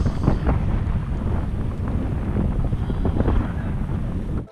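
Strong wind blowing at a wind farm near Riyadh during a ride, a loud continuous roaring buffet across the microphone, steady for a few seconds before cutting off.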